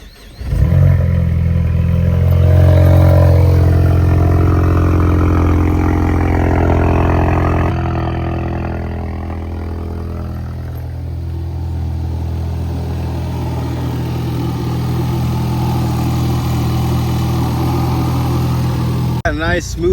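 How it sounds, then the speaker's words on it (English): A Ford Mustang EcoBoost with newly changed spark plugs cold-starts with a loud catch and a high idle. It then settles to a lower, smooth, steady idle heard up close for the rest of the clip. "Let's get this freaking cold start going, and hopefully it's nice and smooth."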